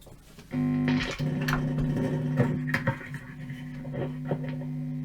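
Loud electric guitar hum and buzz through heavy distortion kicks in abruptly as the guitar is plugged in, a steady droning tone with crackles and scratchy bursts over it.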